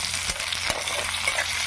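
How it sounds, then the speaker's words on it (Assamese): Chopped onion and tomato frying and being stirred in a pan, a steady close sizzle with a couple of sharp scraping stirs, alone with no talk. "মই ইয়াতে কাটি থোৱা পিঁয়াজখিনি মই দি দিলোঁ, আৰু অকণমান মই লাৰি দিম। আৰু এয়া মই কাটি থোৱা বিলাহীখিনিও দি দিলোঁ।"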